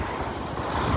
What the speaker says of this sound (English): A bit windy where I am